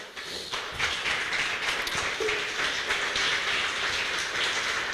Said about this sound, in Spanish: puedes levantar un aplauso al Rey de Reyes y Señor de Señores.